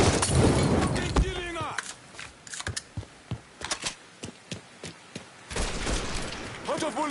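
Sharp gunshots crack out in Mafia 3, a string of separate, fairly close reports spaced irregularly between noisier bursts, with a voice talking.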